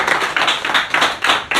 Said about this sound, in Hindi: अभी ये तालियों के गूंज के साथ आप समझ सकते हैं